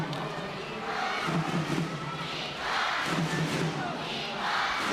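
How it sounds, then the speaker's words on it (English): Spectators cheering at a women's volleyball Olympic qualifier between Japan and Kazakhstan, a sustained roaring crowd with swelling surges and occasional thuds, with a voice talking over it. "The crowd getting louder as Kazakhstan get better"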